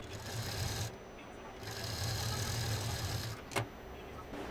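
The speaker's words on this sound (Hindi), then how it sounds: "अब इस दोनों को हम सिल देंगे।" A sewing machine stitching pieces of bias-cut cotton fabric together, a low rhythmic mechanical hum in two runs with a short pause between, plus a brief clack near the end, close and without talk.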